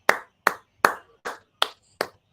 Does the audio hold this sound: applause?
yes